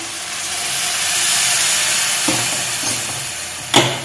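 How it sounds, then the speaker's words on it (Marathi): Hot water poured over ghevda beans frying in a pan brings a loud, steady hiss and sizzle close by, with a couple of sharp clinks near the end and no talking. "ह्यात गरम पाणी आपण ओतायचं"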